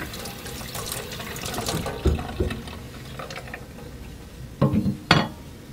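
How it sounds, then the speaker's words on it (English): Tap water running over 600 grit sandpaper as it is wetted for wet sanding, a steady splashing stream close by with a few sharper clinks and drips, no talking. "you're going to take your 600 grit sandpaper and you're going to run it under water"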